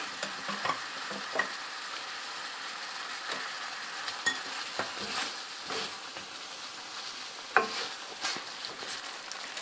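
Chaska paste frying with butter for pulao crackles and sizzles steadily in a pan, with intermittent scraping stirs and small clacks over about ten seconds, fairly close and with no talk.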